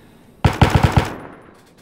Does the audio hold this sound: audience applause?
no